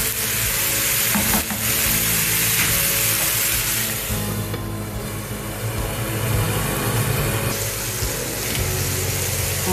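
Garlic sizzles loudly and continuously in hot oil while being sautéed for a re-cooked turkey dish, with occasional stirring scrapes over the steady frying.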